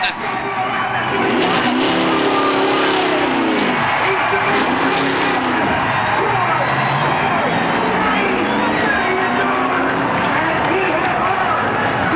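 Race car engines roar loudly and continuously as a car takes a backwards victory lap around Atlanta Motor Speedway at the 1992 Hooters 500 NASCAR race, with crowd noise beneath and a commentator talking over it.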